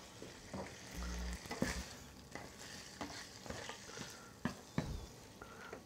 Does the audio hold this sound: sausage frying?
yes